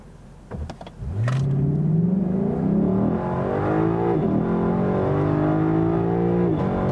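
A 2018 Lexus LC500 rear-drive sports car with almost 500 horsepower starts with a sharp bark, then revs hard and climbs in pitch through gears, loud and close, with a brief shift dip midway.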